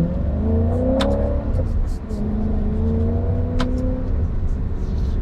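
A 2006 Maserati Quattroporte Sport GT sedan drives along a road, its engine note rising and falling through gear changes with a loud, throaty rumble and a few higher whirs over steady road noise.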